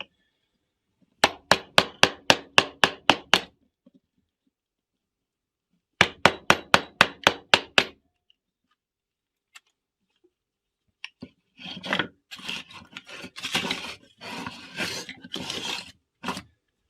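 A wooden mallet drives a profiled carving gouge into stubborn wood for a hand puppet, two bursts of rapid, evenly spaced sharp taps, followed by scraping, rasping gouge strokes.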